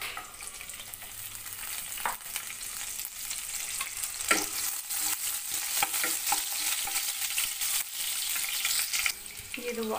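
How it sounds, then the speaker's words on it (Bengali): Fried chicken pieces and chopped garlic stir-fry in a pan, a constant sizzle broken by scraping strokes of a spatula, moderately close with no voices. "চিকেনটা ভাজা হয়ে গেছে, এবার এর মধ্যে দিয়ে দেবো আমি রসুন কুচি"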